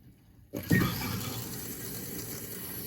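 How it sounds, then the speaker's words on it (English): After a short quiet moment, water rushes into a Kohler Devonshire toilet tank as the supply is turned on slowly, settling into a steady, fairly soft filling hiss. "Get some water running through there, get the tank full."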